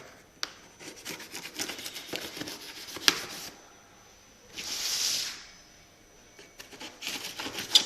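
A courier parcel is opened up close, with rustling, scraping and tearing of packaging, sharp crinkles, and a longer ripping rub partway through.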